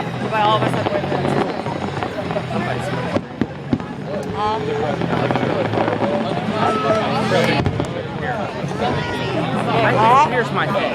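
Repeated booming fireworks bursts and crackles fill the air at the WEBN display in Newport, Kentucky, mixed with a helicopter-like drone overhead and a busy crowd, while people close by talk over the noise.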